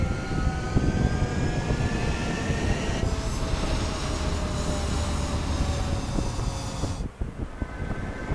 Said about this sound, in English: Mage 2, clear for takeoff.